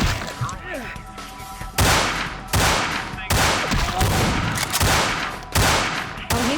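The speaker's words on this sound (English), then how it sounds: "Oh, he's just shooting Heather point blank." Gunfire in Vampire the Masquerade Bloodlines, a series of loud sharp shots close by, spaced about a second apart, with game sounds and a voice in the background.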